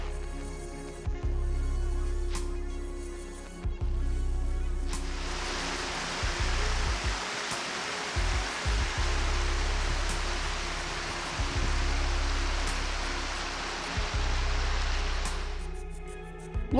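Creek rushing beside a forest hiking trail in Patagonia, a steady broadband wash of flowing water, with some low rumbling buffets and a brief shift in tone partway through.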